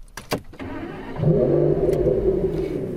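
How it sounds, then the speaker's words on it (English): An Aston Martin Vanquish S 6-litre V12 cranks with a few sharp clicks, then fires and settles into a loud, steady idle, heard from inside the car. "we are greeted by the wonderful 6-litre V12, which sounds absolutely incredible, even from inside the car"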